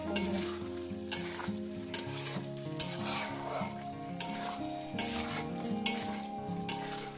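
Vegetables with salt and spices sautéing in a pan for a vegetarian Bengali dish, a steady sizzle broken by repeated sharp scraping stirs, close up, with music playing underneath.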